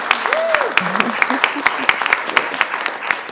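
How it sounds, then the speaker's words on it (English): An audience at a university event claps for a state representative, steady dense applause with sharp individual claps standing out, while a voice talks briefly over the start. "You can give him a clap."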